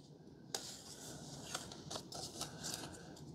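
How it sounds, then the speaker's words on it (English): Scissors snip across a flexible LED light strip in several short, crisp cuts at close range over a steady low background hum. "So you're going to cut right across that strip."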